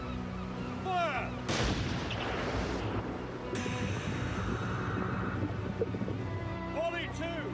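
A ceremonial firing party lets off rifle volleys, sharp loud bursts with echoing decay, mixed with a shouted command and outdoor background noise.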